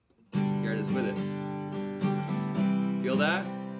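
Acoustic guitar strummed in a down, down, up, up, down, up pattern, bright full chords ringing continuously with steady rhythmic strokes, close and alone without voice.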